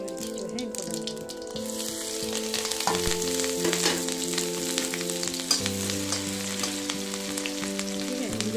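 Oil sizzles and crackles steadily in a pan as garlic, ginger and chili fry, with stirring clatter and scraping throughout.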